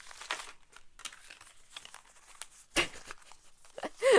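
Tarot cards being shuffled by hand into a pile, producing irregular papery rustles, slaps and crinkles, close and moderately loud, with brief soft voice sounds at the end.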